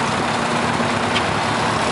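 A 1951 Ford 8N tractor engine runs steadily throughout, a continuous low rumbling drone with no pauses, heard close and moderately loud with no talking.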